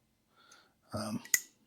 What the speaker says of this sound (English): they lock in place once you have them open